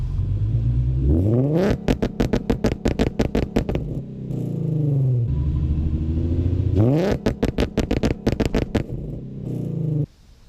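An Infiniti G35 coupe running an E85 fuel map revs hard in two bursts, the engine climbing and crackling with rapid popping pulses before dropping back to idle, loud and close with no talk.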